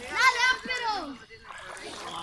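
A person jumps into a cold outdoor swimming pool, making a short splash amid excited voices of children and adults talking and shouting nearby.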